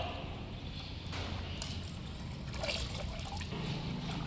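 Plain water is poured as a base for making liquid detergent, producing a faint, steady trickle and splash with scattered knocks and handling noise, and no talk over it.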